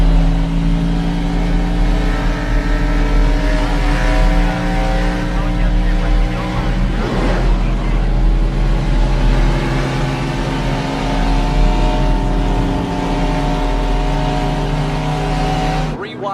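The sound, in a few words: race cars racing at Richmond, from a racing video game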